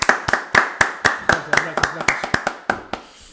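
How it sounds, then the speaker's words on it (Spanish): Clapping at a poetry book presentation, a handful of sharp, distinct hand claps in a slightly irregular rhythm, close and clear, fading out at the end, with a brief spoken word in the middle. "Un aplauso, por favor"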